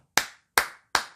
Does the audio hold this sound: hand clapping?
yes